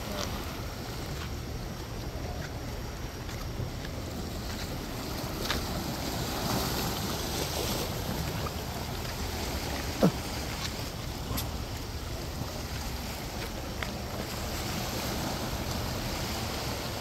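Ocean waves wash steadily onto Jungni Beach at night, a continuous broad surf roar with some wind buffeting the microphone and no clear voices.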